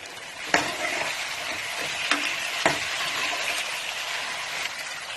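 Onions fry in a pan for a Punjabi-style chicken curry, sizzling steadily while a spoon scrapes and clacks against the metal a few times, the stirring strokes sharp and close over the constant hiss.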